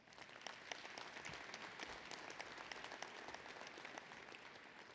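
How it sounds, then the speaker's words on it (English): Sustained applause at a university winter commencement ceremony, many hands clapping in a steady wash, quiet and distant throughout. "So let's give them a big round of applause."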